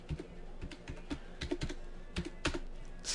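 Typing on a computer keyboard, a quick irregular run of soft key clicks close to the mic, with no voices.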